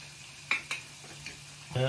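Spices, including turmeric, are mixed into a chorizo paella in a pan, heard as a few faint, brief spoon scrapes over a low background hum, with a voice starting at the very end.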